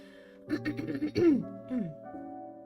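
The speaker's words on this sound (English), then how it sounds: "Clearing my throat too much" A man clears his throat several times in quick, gravelly bursts, close and fairly quiet, with short pauses between the rasps.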